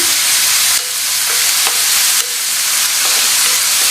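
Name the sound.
onions sautéing in oil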